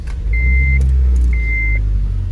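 A 2007 Honda Civic that had sat unused for about a year runs with a steady, close, low engine rumble, punctuated by two short electronic chime beeps.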